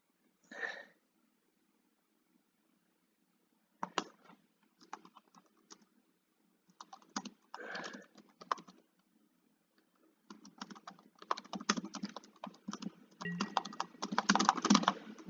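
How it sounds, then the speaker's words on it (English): Computer keyboard typing in scattered bursts with pauses, growing denser and faster toward the end, close and clear with no voices. "sorry if you hear the clicking and the tapping for typing"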